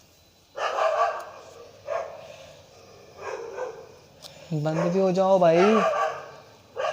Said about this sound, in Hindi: कुत्ते ही बहुत लड़ रहे हैं